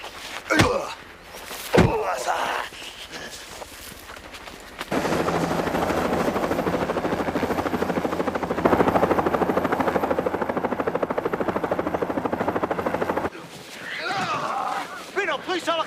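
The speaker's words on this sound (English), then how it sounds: "helicopter!" A helicopter's rotor thumps steadily and loudly at close range for several seconds, preceded by door slams and brief shouted voices, with people talking again as the rotor noise cuts off.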